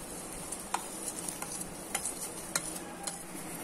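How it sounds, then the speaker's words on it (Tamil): An immunity-boosting health drink bubbles in a pot, with a soft continuous simmer broken by a few sharp clinks and taps of a utensil against the vessel. "இப்ப பாருங்க நல்லா பாயில் ஆயிட்டு இருக்கு"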